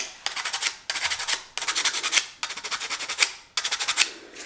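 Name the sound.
sanding wood with coarse sandpaper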